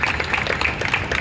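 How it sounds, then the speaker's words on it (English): Applause from an audience at a Ride of Silence 2024 cycling event, a short burst of moderately loud, brisk clapping from a modest crowd. "Give him a huge round of applause"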